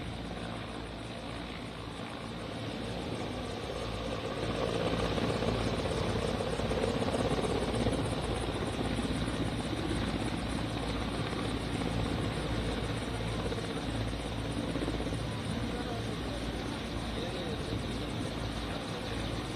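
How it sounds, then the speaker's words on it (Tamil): A helicopter arriving at Rameswaram keeps up a steady, distant rotor and engine drone that grows slightly louder partway through, heard alone without talk. "பிரதமர் நரேந்திர மோடி தற்பொழுது ஹெலிகாப்டர் மூலமாக ராமேஸ்வரம் வந்தடைந்துள்ளார்"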